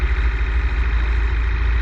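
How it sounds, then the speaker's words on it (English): Light aircraft piston engine held at run-up near 1600 RPM: a loud, steady, close droning roar with a fluttering low rumble and no voices. "we're going to do our run-up checks. And this consists of running the engine up to around"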